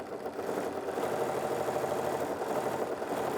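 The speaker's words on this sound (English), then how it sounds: "I'm going to turn the stitch regulator on, and it just begins to sew." A Bernina sewing machine runs with its stitch regulator during free-motion quilting, giving a continuous whirring motor hum with rapid, even needle ticking, close and steady throughout.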